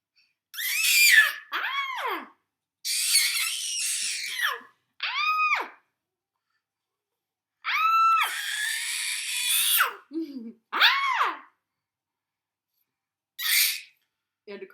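Dexter the dog gives a series of loud, high, wavering howl-like yelps and squeals on command, in short bursts separated by silences.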